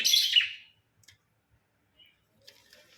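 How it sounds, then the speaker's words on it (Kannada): House sparrows chirping around a home, a bright burst of rapid chirps at the start followed by a few faint scattered calls amid near silence. "ನಮ್ಮ ಮನೆಗೆ ಗುಬ್ಬಚ್ಚಿ ಸೌಂಡ್ ಫ್ರೆಂಡ್ಸ್ ಅದೇ ಸೌಂಡ್ ಕೇಳಿಸುತ್ತೆ ನಿಮಗೆ"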